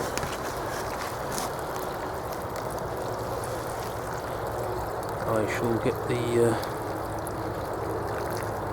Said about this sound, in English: While that's draining down a bit